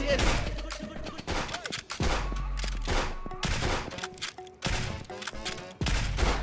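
Rapid gunshots from the brawler game Friends Vs. Friends crack out in sharp, irregular bursts across the whole stretch, loud and close, with a voice heard now and then among them.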